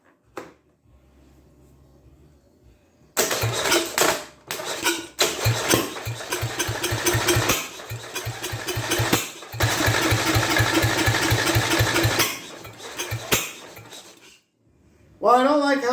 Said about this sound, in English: Well, I don't like how it's backfiring through the carburetor like that.